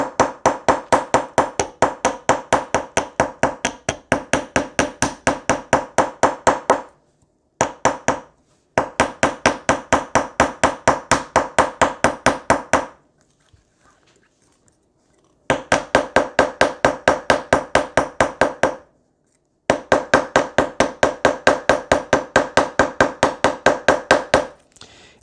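A ball peen hammer taps wire against a hard surface to texture a Viking wire knit pendant, a rapid, even stream of sharp metallic strikes in long bursts split by short pauses, close and loud, with no talking.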